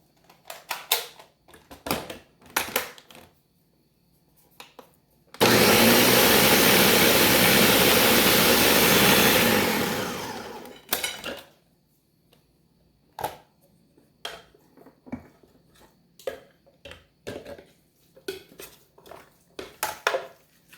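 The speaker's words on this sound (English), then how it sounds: "So don't over grind them, because then it'll be like pesto butter" A blender whirs loudly for about five seconds grinding macadamia nuts for pesto, starting abruptly and tapering off, framed by scattered clinks and knocks of kitchen handling before and after.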